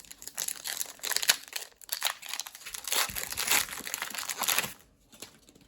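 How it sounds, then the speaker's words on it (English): Pokemon TCG Stellar Crown booster packs being torn open, a run of crisp foil crinkling and ripping noises in irregular bursts close to the microphone, briefly pausing before one more crinkle at the end. "Let's rip some packs, man."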